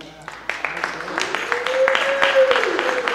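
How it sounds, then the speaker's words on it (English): Applause from an audience at an evening performance, a steady patter of clapping over several seconds that rises slightly, with a voice over the top. "So a round of applause"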